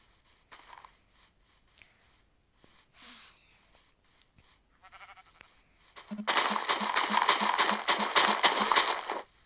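Sheep bleating in a video game, with faint scattered calls early on, then a loud, dense burst of overlapping bleats in the final few seconds.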